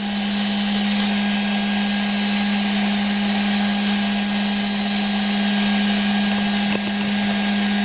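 A 500W brushless motor spindle runs at maximum speed, around 12,200 RPM, on roughly 48 volts. It gives a loud, constant high-pitched whine with a steady hum under it, close up and without talk.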